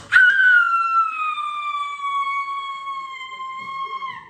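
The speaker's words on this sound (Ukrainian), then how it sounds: "Повітряна тривога." An air raid siren sounds loudly, one long wailing tone that starts abruptly and slowly slides downward while holding steady for several seconds, with no speech over it.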